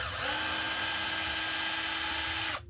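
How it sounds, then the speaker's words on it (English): A power drill whines steadily at high speed while backing a screw out of a Festool SYS roll being modified, loud and close, then stops abruptly near the end. "I'm going to pull this middle screw out."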